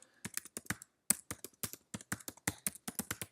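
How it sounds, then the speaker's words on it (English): Rapid keystrokes on a computer keyboard as a web address is typed in, a steady run of sharp close clicks with a brief pause partway, no talking. "type in our sample URL there and click Analyze"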